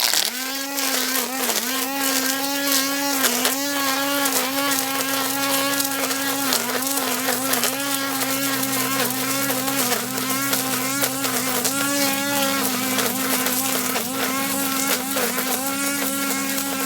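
Bugs buzz around the microphone in the woods, a continuous wavering drone that swells and fades as the insects fly close, with no talk over it.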